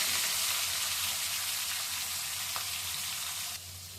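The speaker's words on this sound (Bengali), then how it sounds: "মেথি ফোড়নটা দিয়ে দিলাম, দিয়ে মাছগুলো ছেড়ে দিলাম" Fish sizzles steadily in hot oil with fenugreek seeds, a dense, close, continuous crackle that drops slightly in level near the end.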